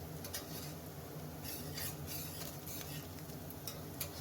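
Onions fry in a kadhai with a soft, continuous sizzle, stirred throughout to stop them sticking. Light scraping and ticking come from the utensil against the pan, and nobody speaks.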